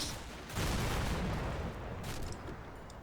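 Gunfire trades back and forth between buildings in Combat Mission Shock Force 2, a dense, loud rolling crackle of shots and thuds that swells after a quieter opening and holds steady.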